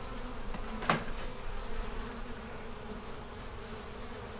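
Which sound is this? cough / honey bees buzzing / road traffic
honey bees buzzing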